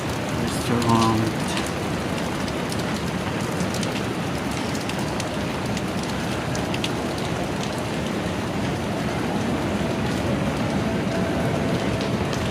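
Heavy rain pours steadily in Venice Taguig, a dense, constant hiss that lasts throughout with brief voices early on.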